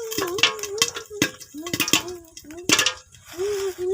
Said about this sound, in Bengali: শুরু হয়ে গেছে ফুটাফুটি। অনেক সুন্দর পপকর্ন ভাজাটা